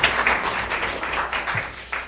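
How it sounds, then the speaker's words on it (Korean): An audience at a conference applauds, a dense, moderately loud patter of many hands clapping together, swelling and easing slightly without pause. "우리 박수 한번 치시죠."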